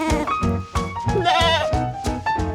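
A goat bleats close by in a run of repeated wavering cries, with several calls in quick succession and no speech over them.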